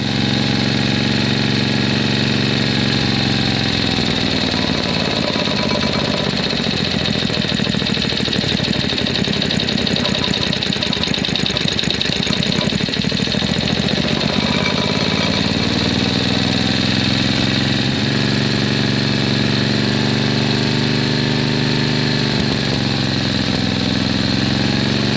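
A refurbished vintage Tecumseh 5.5 hp engine on a Doodle Bug retro mini-bike runs loud and close for the full length, a steady mechanical drone whose pitch dips and rises as the revs change.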